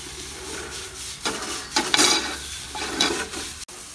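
Homemade tandoori masala, coriander powder and garam masala get stirred into crab in a hot pan: a continuous sizzle with scraping swirls and a few louder utensil strokes against the pan, one brief knock near the end.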